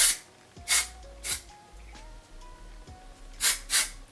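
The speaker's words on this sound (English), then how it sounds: "take a texturizing spray" Short hisses of Beach Club texturizing hair spray misted onto a finished head of beach waves, five separate bursts spaced irregularly, the last two close together, with a quiet room between them.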